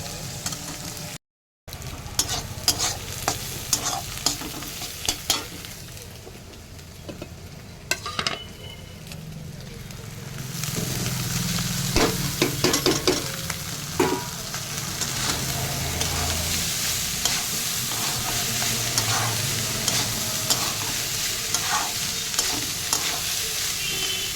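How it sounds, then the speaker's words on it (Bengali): Onion, beans, carrot and green chilli fry in a wok with cumin seeds, first a quieter crackle with scattered clinks, then a louder, steady sizzle with frequent stirring scrapes close by; no speech. "গোটা জিরে ফোড়নে দিলাম, দিয়ে পেঁয়াজ, পেঁয়াজ, বিনস, গাজর আর কাঁচা লঙ্কা একসাথে দিয়ে দিলাম, দিয়ে ভাজা করছি।"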